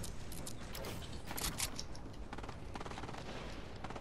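Rapid gunfire from players shooting at one another in Fortnite crackles in dense overlapping bursts, steady and fairly loud throughout with no pauses.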